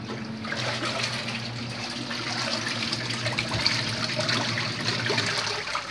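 Steady splashing and running water, close by, as clothes are washed by hand, with a continuous low hum underneath and no speech.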